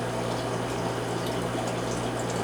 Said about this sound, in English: Taking the water and dumping it through the sieve